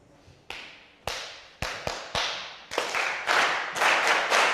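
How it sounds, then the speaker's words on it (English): Hands clap out a rhythmic pattern of about ten sharp claps, sparse at first and then quickening into closer groups, loud and near with short ringing tails and no talking. "I'm going to clap a pattern and then you're going to clap it back"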